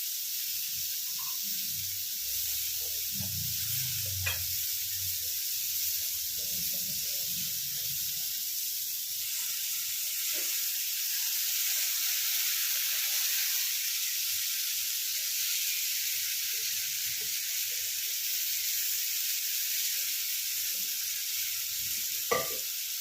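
Green mango chutney with sugar and jaggery simmers in a pan, giving a steady soft sizzle and hiss throughout, with a few brief stirring clinks early on and no talking.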